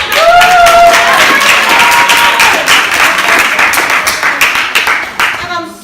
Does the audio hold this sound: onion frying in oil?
no